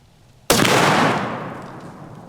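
A single sharp 300 Win Mag rifle shot fired into a ballistic dummy head cracks out loudly after a brief quiet, followed by a long echoing decay outdoors.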